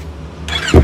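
A Yamaha MT25 Gen 2 motorcycle fitted with an aftermarket exhaust rumbles at idle in a brief, deep burst that starts quiet and swells sharply louder near the end.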